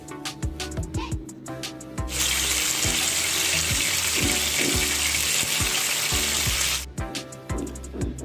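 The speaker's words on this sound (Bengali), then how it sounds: "আমাদের ম্যারিনেট করা মাংসগুলো আস্তে আস্তে গরম তেলে ভেজে নেব।" Marinated beef kababs go into hot oil and give a loud, continuous sizzle lasting several seconds, with light utensil clinks and taps before and after.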